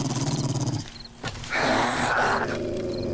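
Dogs growl in the video game 7 Days to Die, a rapid rhythmic snarling at first, then a pause and a louder, harsher burst of growling and roaring that carries to the end.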